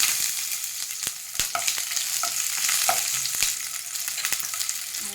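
Ten to twelve garlic cloves sizzle in hot oil in a pan, a continuous loud crackle with sharp utensil knocks scattered throughout.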